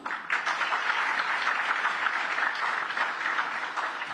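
Steady, dense applause from an audience at a formal ceremony at the Governor's residence in Guindy, sustained throughout at a fairly loud, even level.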